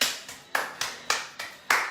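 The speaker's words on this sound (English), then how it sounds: "Give yourselves a round of applause." A round of clapping follows a workout session: about seven crisp, evenly spaced claps in a quick steady rhythm, close by and with no voices.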